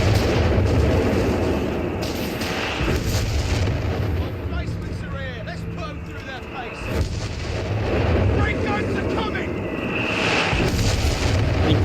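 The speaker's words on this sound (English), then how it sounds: "big hits from the artillery" Artillery shells exploding in the strategy video game Company of Heroes 3 make heavy, rumbling booms amid dense battle noise, loud and continuous, with a commentator's voice talking over the action.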